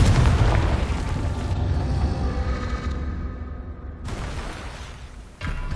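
Confringo blasting spell explosion in a Harry Potter video game: a loud, deep boom that rumbles and slowly decays over several seconds, followed by a second sharp blast near the end.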